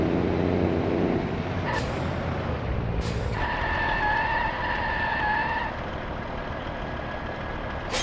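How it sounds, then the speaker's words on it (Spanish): Two sharp hisses of air brakes mark a heavy truck braking hard in Grand Truck Simulator 2, over a loud, steady engine drone with a brief high tonal whine and no talk. "presionamos doblemente, dos veces, disculpen, rápido el freno y ya verán cómo el camión frena."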